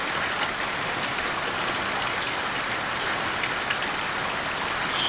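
Steady rain falling outdoors on a Friday morning in the Ouazzane and Sidi Redouane area of Morocco, a dense, even hiss of drops with no pauses or voices.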